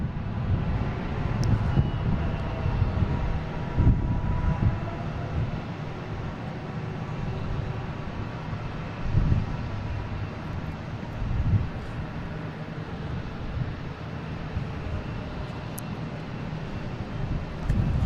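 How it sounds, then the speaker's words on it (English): A Turkish Airlines airliner taxis along runway 33 at Boston Logan International Airport, giving a steady, distant low engine rumble mixed with wind noise on the microphone for the whole stretch, with no talking. "We got Turkish here heading down runway 33 to head back to the Terminal E"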